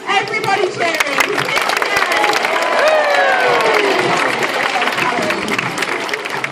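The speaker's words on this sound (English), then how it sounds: "Right, so I need everybody clapping, everybody cheering." An audience at a sea lion show at West Midlands Safari Park claps and cheers, with dense rapid clapping mixed with children's excited shouts and whoops, and a voice talking partway through.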